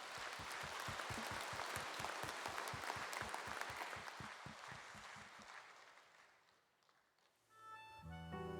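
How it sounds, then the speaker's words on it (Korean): A large church congregation gives warm applause for a Chinese compatriot choir at a Korean diaspora mission conference, dense rhythmic clapping that swells then fades out before music begins. "중국 동포 찬양단들에게 뜨거운 사랑과 격려의 박수"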